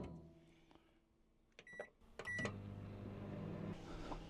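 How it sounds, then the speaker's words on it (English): A microwave oven powered by a portable power station inside a van beeps as it is set, then its fan and magnetron hum start up and run steadily at moderate volume, with no talking. "1270 watts with the microwave on"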